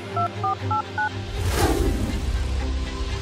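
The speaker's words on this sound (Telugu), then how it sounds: "వెంటనే తన ఫోన్లో ఏదో నంబర్ డైల్ చేసి" A phone number is keyed in on a phone: four short, evenly spaced beeps, followed by a loud rushing swell of noise.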